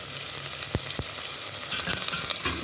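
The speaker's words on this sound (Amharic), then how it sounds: "ተመልሰን ወደ ጋለው ዘይታችን ላይ ሽንኩርታችንን እናደርጋለን።" Onions go into hot oil, frying with a constant close hiss and crackle, and a few sharp clicks of a spoon against the pan over the sizzle.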